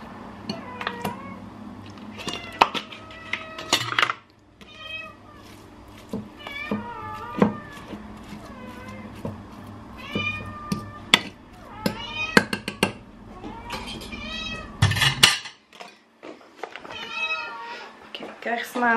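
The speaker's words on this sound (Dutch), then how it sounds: "Kom, katjes." Several house cats meow repeatedly and close by around feeding at Christmas, many rising and falling cries overlapping with handling noises, occasional taps and someone talking softly.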